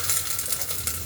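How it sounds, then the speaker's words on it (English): Sweet plantains sizzle while frying in hot oil, giving a steady close crackle with a soft hiss throughout. "I hear certain sizzling."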